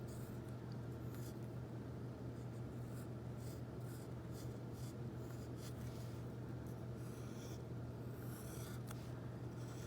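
Pencil sketching a large pattern template on paper: soft, close scratchy strokes in irregular bursts of scribbling over a steady low background hum, with no talk.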